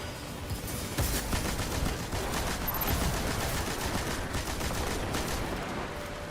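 Seasonal Seraph LMG firing in a video game: a long, sustained stream of rapid automatic shots running almost the whole way, steady and fairly loud, with a few brief gaps.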